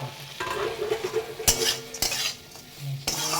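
Fish with green chilli and ginger being stirred in a pan, with brisk spatula scrapes and several sharp metallic clinks against the pan over a light sizzle, close and fairly loud.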